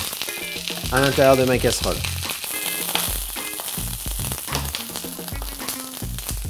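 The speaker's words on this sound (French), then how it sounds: "Là, tout simplement, je fais griller mon poulet comme ceci. Je fais rissoler mes oignons" Onions browning and frying in a pan for a chicken dish with grapes, almonds and amaretto, a steady sizzle running throughout, while someone talks over it at close range.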